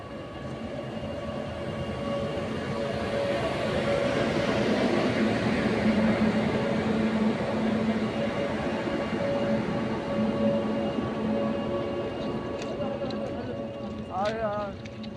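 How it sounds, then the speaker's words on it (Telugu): A goods train with wagons and its engine rolls along a railway line, giving a steady, loud rumble and rhythmic clatter throughout, with a brief higher squeal near the end. "గూడ్స్ ట్రైన్ వ్యాగన్లతో పాటు ఇంజన్ కూడా వెళ్లిపోగా"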